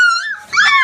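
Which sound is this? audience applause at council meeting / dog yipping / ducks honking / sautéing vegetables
dog yipping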